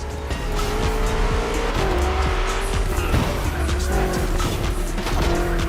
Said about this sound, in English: We're putting 3 BMW MCS to the test over very long distances, and it's your job to drive them one after the other.